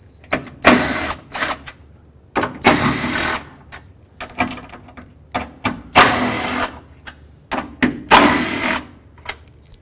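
Bursts of a power tool spinning out four 10 mm bolts during a 2005-2009 Chevy Equinox grille replacement, several loud whirring runs separated by short pauses, close by with no talking.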